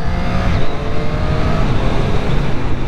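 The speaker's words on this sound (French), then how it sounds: "on peut réaccélérer doucement avec un petit coup de shifter" A 2021 Triumph 765 RS motorcycle pulling away again out of a hairpin bend, its engine roaring steadily and loud up close with quickshifter gear changes, with rushing wind noise and no talking.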